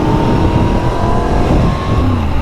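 A motorcycle accelerates loudly and close by, its engine roaring steadily with rising revs and constant wind rush, with no talking.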